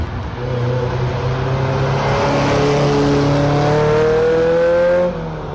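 An early-1980s Ferrari fuel-injected V8 engine revs up strongly with rising harmonic pitch, held loud and close for several seconds before cutting off abruptly near the end.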